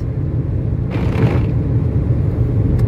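Manual car engine droning low and steady as the car creeps forward slowly under light throttle, a close, loud rumble with faint road noise and a brief swell partway through, no voices over it.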